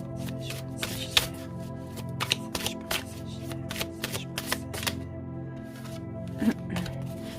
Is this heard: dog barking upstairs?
no